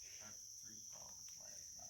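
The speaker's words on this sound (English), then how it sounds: "Yeah, I heard tree frogs." Tree frogs calling at night in the Sipsey Wilderness: a steady, shrill insect-like chorus with softer pulsing calls rising and fading underneath, continuous and fairly distant.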